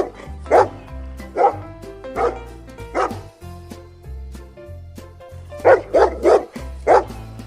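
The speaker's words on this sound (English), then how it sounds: "dog," A dog barks repeatedly in sharp, loud bursts, a run of four followed by a pause and then another quick cluster of barks, set over light background music.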